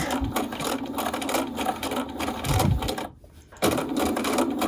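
A sewing machine runs a continuous seam around a garment neckline, its fast mechanical chatter rattling close and steady, then briefly pausing before starting again.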